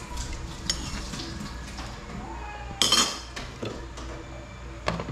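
Vegetables cooking in a small pot, with steady sizzling under intermittent clinks and scrapes of a utensil stirring against the pot, close and continuous.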